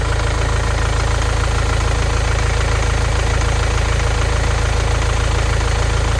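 A Nissan Primastar 2.5 diesel engine idles steadily after a new alternator belt and rollers are fitted, a close, even mechanical rumble with a faint knocking texture and no voices.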